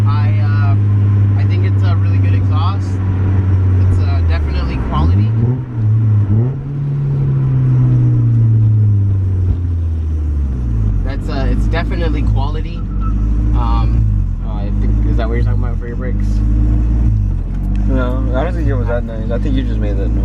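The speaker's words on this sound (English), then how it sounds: "Yeah, so ISR exhaust sounds great." Mazda NA Miata fitted with an ISR exhaust idling and revving, a deep throaty rumble whose pitch rises and falls with throttle blips, close and loud, with people talking over it.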